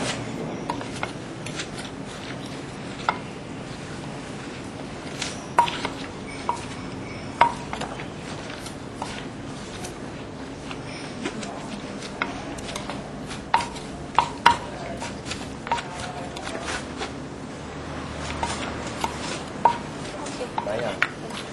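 A pestle pounds Thai green papaya salad in a mortar while a ladle turns the mix over, giving a steady stream of dull thuds and scraping knocks under ongoing talk.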